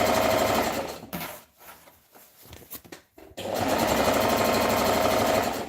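A sewing machine runs steadily while stitching fabric for a gathered skirt, then pauses briefly with a few small clicks and handling noises, then resumes its loud, even whirring hum.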